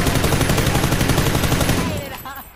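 Rapid automatic gunfire from PUBG rattles loud and close in a dense burst, then cuts off and fades, with a voice briefly audible at the end.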